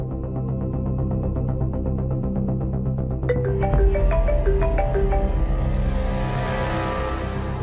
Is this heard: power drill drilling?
no